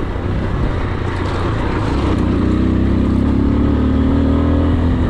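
A 2023 AKT TTR 200 motorcycle climbs a hilly dirt trail in third gear. Its engine gives a loud, steady, close drone that rises slightly in pitch as it pulls, with no talking.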